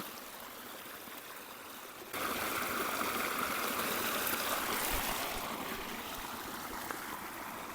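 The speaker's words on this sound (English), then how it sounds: "this underground water source travels for miles and miles and is filtered through the sand, which makes the water extremely pure" Underground spring water trickling out along a Yukon backroad, a steady soft gurgling flow that grows slightly louder partway through, with no voices.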